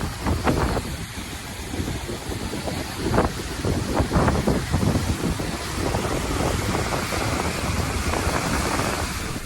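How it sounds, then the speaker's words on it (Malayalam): Huge sea waves crash onto the rugged rock ledges and into the sea-carved rock tunnels at Devil's Tears, Nusa Lembongan. A loud, continuous roar with repeated surging bursts is mixed with heavy wind buffeting on the microphone, and no one speaks. "കടൽ തീരത്തെ പരുക്കൻ പാറക്കെട്ടുകളിൽ തട്ടി മാനത്തേക്കുയരുന്ന കൂറ്റൻ തിരമാലകൾ"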